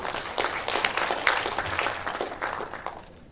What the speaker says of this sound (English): Ladies and gentlemen, applause again for Boston University.